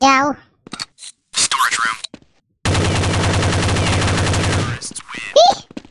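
Gunfire in Counter-Strike: Condition Zero, a sustained two-second burst of rapid, loud shots with a few scattered single shots before it, with voices talking around the firing.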